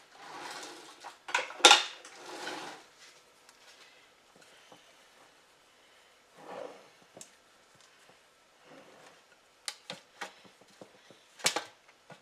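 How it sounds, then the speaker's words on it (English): A spatula scraping around the edge of a sheet pan holding angel food and pineapple cake, with quiet, intermittent metallic scrapes and taps spread across a near-silent stretch. "Let me just get a spatula and go around the edge."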